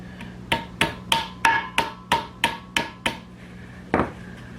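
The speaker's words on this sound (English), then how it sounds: "It clamps those two together and mashes down at the same time." Special crimping pliers clamp and mash a rusty collar on a Chevy during a clunk-noise repair, giving a series of sharp metallic clacks in a steady rhythm, then a pause and one final close, loud snap.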